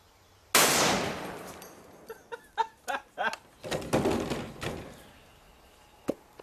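A Barrett .50 BMG rifle fired at a lock mounted on a 2x6 board, one huge close blast followed by clattering, banging debris and a few lighter knocks as fragments settle.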